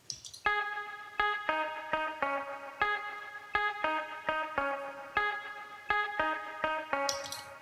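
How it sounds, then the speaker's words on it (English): A guitar riff run through delay effects plays a short repeating figure of plucked notes with echoing tails, clear and alone, as part of a build-up in an electronic remix. "we have this little guitar riff which plays during the build-up"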